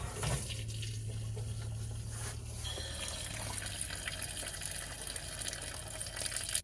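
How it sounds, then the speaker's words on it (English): Water draining out of an RV's disconnected water lines during winterization, a steady rushing, gushing flow that runs continuously and fairly loud throughout, with no voices. "we're going to go ahead and drain our lines"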